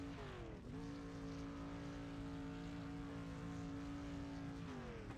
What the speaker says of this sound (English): Got someone really happy engine revving his engine there